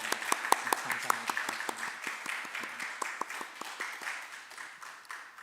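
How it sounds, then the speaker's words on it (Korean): Scattered hand claps build into a short round of applause from a small church congregation, with sharp individual claps standing out and tapering toward the end. "환영의 박수 드리겠습니다"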